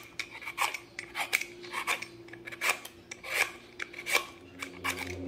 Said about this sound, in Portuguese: esse aqui é um descascador desses de legumes normal